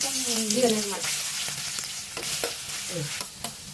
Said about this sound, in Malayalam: കുറച്ച് ഓയിൽ നമുക്ക് ഒഴിച്ചു കൊടുക്കാം ഒത്തിരി ഓയിൽ വയ്ക്കണ്ട അമ്മ ചീത്ത പറയും നമ്മുടെ ചെമ്മീൻ ഇട്ട് കൊടുക്കാം